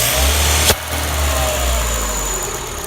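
A RenaultSport Megane 225 engine runs with a vacuum hose pulled off, giving a steady, close, droning hum with one sharp click early on and no voices.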